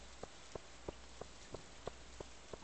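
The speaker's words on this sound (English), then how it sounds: "It's raining!" Rain falls in the Stardew Valley farming game, a quiet steady hiss with small regular droplet ticks roughly every third of a second, no voices.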